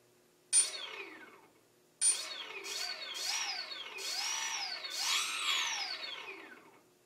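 A brushless drone motor driven by a BlueSeries ESC freshly flashed with SimonK firmware: a short whine, a pause, then repeated rising and falling motor whines that sweep up and down in pitch, fairly quiet.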